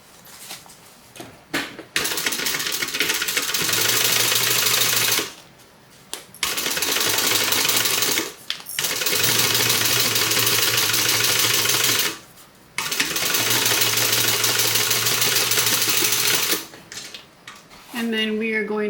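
A sewing machine stitches a crossbody bag in long, steady whirring runs broken by short pauses. The sound is loud and close, and no voices are heard.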